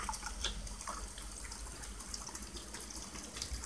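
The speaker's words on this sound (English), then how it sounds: "I'm just gonna fill it up some more" Tap water running into a container being filled for a rust-soaking experiment, a continuous close splash and trickle with small drips and bubbling.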